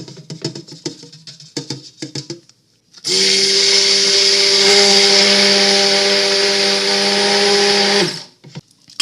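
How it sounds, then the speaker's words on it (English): A stick blender runs steadily for about five seconds as it mixes soap batter for a snow drift swirl soap. Before it starts there are short clinks and scraping from stirring, and the motor hum stops sharply at the end. "when we use the stick blender, okay, to blend everything"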